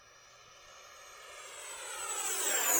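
An E-flite Viper Jet 90mm electric ducted-fan RC model jet makes a high-speed pass, its whine and rushing air swelling steadily louder as it closes in, with a rising pitch toward the end and no talk.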